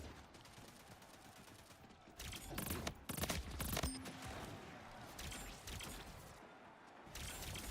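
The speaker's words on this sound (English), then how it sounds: "they're using shotguns" Shotgun fire in the video game Splitgate 2, several heavy irregular blasts and clattering bursts amid busy combat noise, loud and close, with no talk heard.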